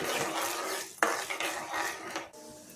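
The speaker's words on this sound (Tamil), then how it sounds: "உளுந்தம்பருப்பை அதில் சேர்த்துக்கிறேன் லேசாக செவக்கிற வரைக்கும் அதை நல்லா கிண்டி" Urad dal is stirred as it fries in hot sesame oil, a spoon steadily scraping and rubbing the pan with one sharp knock near the middle, close and fairly soft.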